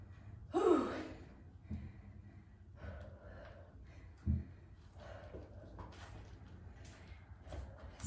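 Heavy, audible breathing of someone resting between strength exercises in a quiet room, with a sharp gasping inhale early on and slower exhales and soft sighs following, close to the listener.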